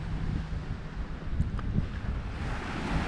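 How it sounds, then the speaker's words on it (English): Ocean waves wash steadily onto a sandy beach in a broad, rushing roar, mixed with wind buffeting the microphone. "I'm sure by now you're hearing these waves coming in."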